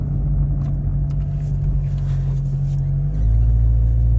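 A 2001 Ford Focus idles and drives with a steady low engine rumble and hum close by, rising slightly in level near the end as it pulls away.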